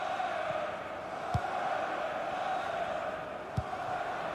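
A large stadium crowd in the FIFA 18 football video game gives a low, sustained rumble of oohs, steady and wide throughout, with a couple of faint thuds along the way.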